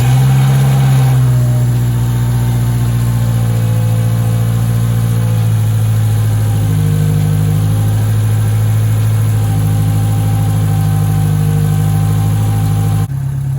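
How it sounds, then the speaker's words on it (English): A Scion tC engine idles steadily and loudly with a low, even hum after a brief start at the beginning, its valve tick faintly present beneath the drone, with no talking. "That ticking is my valve. It's valve tick, unfortunately."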